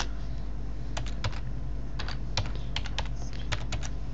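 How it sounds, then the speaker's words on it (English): Keystrokes on a computer keyboard, typing a word repeatedly: irregular bursts of sharp clicks and small clusters over a steady low background hum, close and moderately quiet, with no talking. "You can now type the word over and over again"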